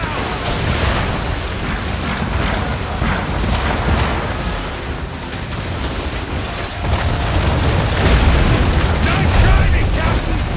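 Mortar explosions in the video game Assassin's Creed III, heavy booming blasts and rumbling debris rolling continuously over ten seconds amid wind and battle noise, loud and close.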